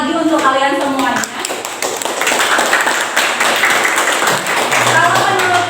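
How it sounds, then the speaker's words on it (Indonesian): An audience claps in a hall, bursts of applause mixed with taps and handclaps that swell and fade while voices speak over the top. "Tepuk tangan lagi untuk kalian semuanya."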